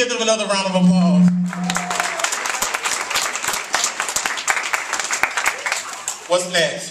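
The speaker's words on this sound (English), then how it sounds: "Let's give them another round of applause." A crowd at a fashion show applauds with dense, sustained clapping for several seconds, a voice briefly heard at the start and end over the clapping.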